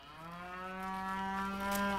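Cattle on a farm give one long, steady, close moo that swells slightly in loudness, with no other sound over it.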